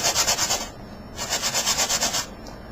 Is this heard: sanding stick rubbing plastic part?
yes